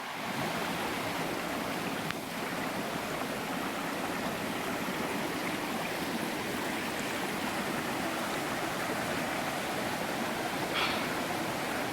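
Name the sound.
North Harper Creek stream flowing, Pisgah National Forest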